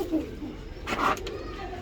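Pigeons kept in a coop cooing softly in a brief low murmur, with a short brighter call midway, faint under steady background noise.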